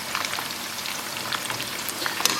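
Fries for moules frites bubble through their first fry in hot oil, a steady close crackling sizzle with scattered sharper pops, and no talking.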